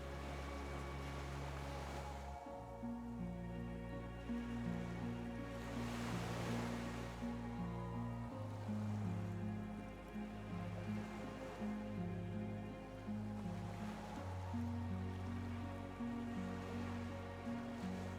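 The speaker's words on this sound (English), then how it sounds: "The skiff is swaying on the waves by the dock." Gentle waves lapping by the dock where a skiff sways in the game Disco Elysium, soft steady washing surges under sustained low musical tones, quiet and continuous.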